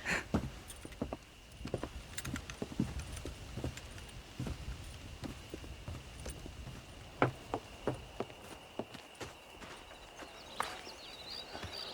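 Horse hooves clip-clop steadily over ground on a ranch in the video game Red Dead Redemption, a faint, irregular walking rhythm against quiet ambience.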